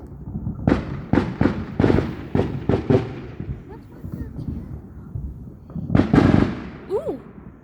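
Fireworks go off in a rapid series of sharp bursts, about seven in quick succession and then a loud cluster a little later, with excited voices exclaiming between and over the bangs.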